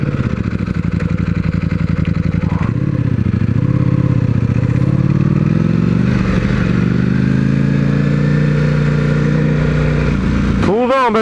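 Ducati V4 motorcycle engine running loud and close, with a rumbling idle that swells into revving with rising and falling pitch, ending in a sharp rev at the end.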